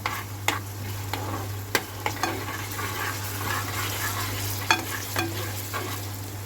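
Oil frying on a stove as the topping for Egyptian lentil soup is made, with a steady loud sizzle, occasional spoon stirs and clinks, and a constant low hum underneath.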